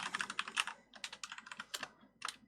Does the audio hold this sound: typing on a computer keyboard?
yes